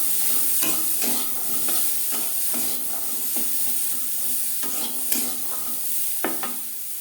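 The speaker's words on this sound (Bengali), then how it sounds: "লবণ হলুদ দিয়ে মটরশুঁটি ভেজে নেব।" Green peas frying in a pan with salt and turmeric for motor shak bhaja, a steady close sizzle broken by repeated scraping stirs of a spatula against the pan.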